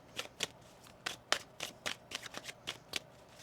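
Tarot cards being shuffled in quick, crisp riffles, a rapid flutter of papery snaps close by with no talking.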